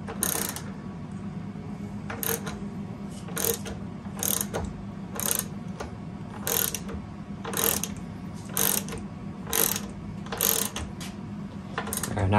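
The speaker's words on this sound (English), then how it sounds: "the nut that he's holding with the 14 millimeter wrench is just spinning" A 14 mm wrench turning a nut on a Jeep JL roll bar during a sports cage install, giving repeated crisp metallic ratcheting clicks in short bursts at a steady rhythm, close and clear with no talking.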